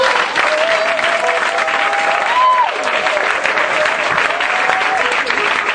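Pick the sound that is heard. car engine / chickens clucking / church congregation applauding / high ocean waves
church congregation applauding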